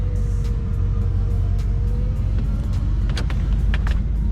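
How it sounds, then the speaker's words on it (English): Power convertible top of a 1980s Ford Mustang Foxbody 5.0 closing while the engine idles, a low steady motor rumble with a thin whine from the top mechanism and a few light clicks near the end. "let's see how the top goes back up"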